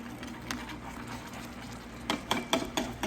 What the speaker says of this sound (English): Okay, set that aside and get this stirred up.